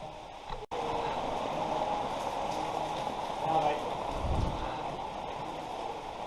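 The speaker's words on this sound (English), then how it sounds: "Really is a rainstorm." Steady, dense hiss of heavy rain pouring down on an old house in France, broad and continuous, with a brief dropout near the start and a low rumble midway.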